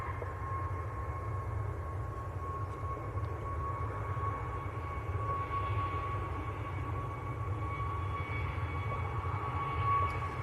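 A Pegasus Airbus A321neo airliner at Manchester Airport produces a faint, distant, steady engine roar with a thin whine over low rumbling background noise.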